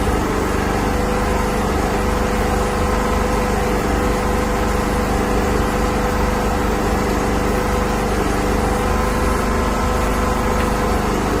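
A sewing machine runs in a steady, continuous whir while stitching a cargo pocket, close and uninterrupted throughout.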